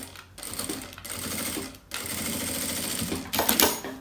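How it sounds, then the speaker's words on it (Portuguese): A sewing machine stitches a seam on a small handmade case, running in short bursts with brief pauses between them. The whirring is close and moderately loud, and nobody speaks. "vou passar aqui uma costura"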